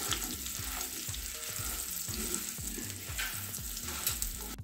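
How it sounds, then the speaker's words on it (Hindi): Colocasia leaf rolls are stirred with spices in a frying pan, giving a steady close sizzle of hot oil with regular scraping strokes from the stirring and no voices. "अब हम इन सभी को अच्छे से मिक्स करेंगे।"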